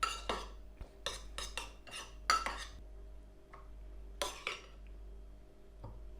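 Pumpkin pieces tossed with herbs and a little oil, mixed in a bowl with a utensil that clinks and scrapes against the sides in short, close bursts separated by quiet gaps.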